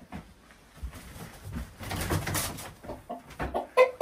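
Hens and a rooster inside a large chicken house holding about 20,000 birds cluck and call in a busy, overlapping chorus, with a few louder, nearer squawks standing out near the end.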